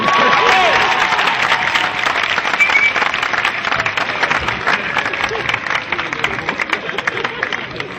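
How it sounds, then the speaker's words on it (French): Theatre audience applauding after a comedy performance, a broad continuous roar of clapping mixed with faint crowd murmur that stays loud throughout and eases slightly toward the end. "Applaudissements pour son excellent jeu"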